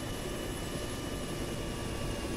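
A steady, close helicopter engine roar in ArmA 3 during a winter mission, with rotor wash and turbine whine blended into one unbroken, even drone.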